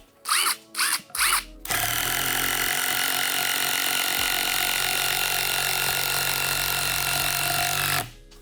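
A black Metabo HPT power drill gives three short bursts, then runs continuously at a loud, steady whine for about six seconds before stopping.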